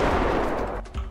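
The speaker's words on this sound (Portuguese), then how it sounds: "O tiro foi pro seu lado aí, né?" Gunfire in a GTA 5 roleplay game, a loud burst of booming shots rolling together, with a second sharp report near the end; no talk over it.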